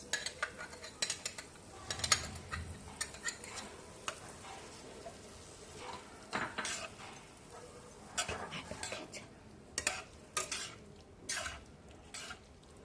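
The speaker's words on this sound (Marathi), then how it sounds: "तो पण छान परतवून घ्यायचा आहे ग्रीन चिली सॉस" Vegetable Manchurian being stir-fried with green chili sauce in a pan, with irregular scraping and clinking of a spatula against metal, soft and close, in scattered strokes over a quiet sizzle.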